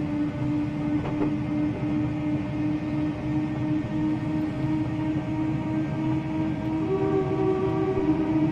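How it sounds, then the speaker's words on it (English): Class 503 electric train in Train Simulator Classic on the Sheerness-on-Sea to Ebbsfleet run, a steady rolling rumble with sustained horn tones, the second pitch entering near the end. "as you just heard, it does have a two-tone horn"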